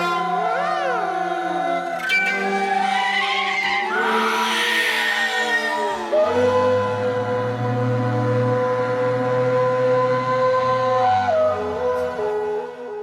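A designed Screaming Horns preset from the Maleventum 2 instrument library blares as eerie, wailing, pitch-bending horn tones over a sustained low drone, layered into a swelling, shrieking crescendo before settling into held, dissonant chords.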